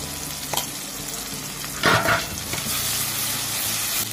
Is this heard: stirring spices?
yes